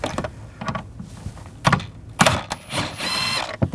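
A socket wrench with a T40 socket working a screw loose on a 2007–2013 BMW 328i during rear lower shock mount replacement, giving close, intermittent metallic clicks and ratcheting bursts separated by short pauses.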